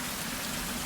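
Steady rain falls in the survival video game Survival: Fountain of Youth, a soft even hiss of drops on surfaces with no break through the short stretch.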